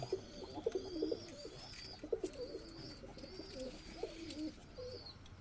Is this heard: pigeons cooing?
yes